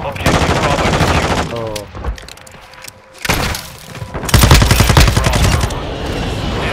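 Rapid automatic fire from a light machine gun rattles loudly in a military shooter video game, in two long bursts separated by a brief lull with thuds and a muffled thump.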